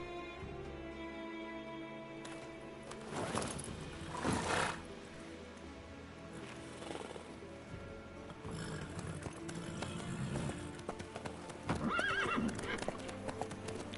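Steady hooves clop along at a walking pace in a Witcher video game, with a horse whinnying loudly now and then over a low ambient backdrop.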